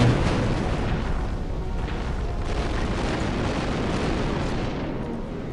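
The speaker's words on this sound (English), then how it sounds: "Always gotta love explosions." A rocket launcher explosion in the Star Wars Republic Commando video game lands as a loud, deep boom and then rumbles on steadily for several seconds, with no talking.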